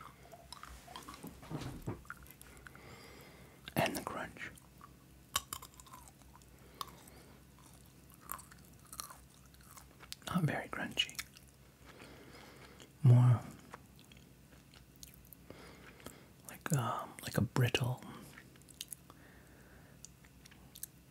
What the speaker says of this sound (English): So first, we'll try the crunch test of the cashew.